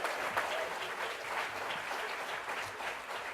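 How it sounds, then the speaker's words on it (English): Audience applause at a CUEtalks speaking event, a steady, dense wash of many hands clapping filling the room for several seconds without a break. "Let's give her another round of applause."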